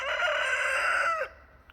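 A rooster in a garden in the Santa Cruz Mountains crows once, close and loud, a single drawn-out call of just over a second that cuts off abruptly into near quiet.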